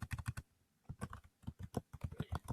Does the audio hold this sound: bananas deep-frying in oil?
no